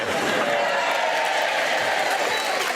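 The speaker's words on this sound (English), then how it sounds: "Very lukewarm round of applause." A TV quiz-show studio audience gives a lukewarm round of applause, an even, moderate patter of clapping heard under a voice that speaks across it.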